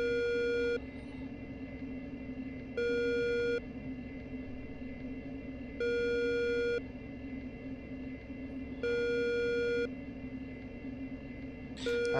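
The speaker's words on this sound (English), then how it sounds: "That's annoying, isn't it, that beep?" A repeating electronic cockpit tone from the self-test of an AJS-37 Viggen in the DCS World flight simulator sounds in four evenly spaced, steady beeps of about a second each, heard clearly over a constant low engine rumble.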